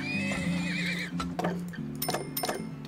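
In the video game Turmoil, a horse whinnies with a high wavering call over a steady tonal game music bed, followed by a few clip-clopping hoof beats and ticks.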